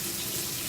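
Running tap water at a sink as raw meat is washed off hands, a steady close gush of water that stays loud and even.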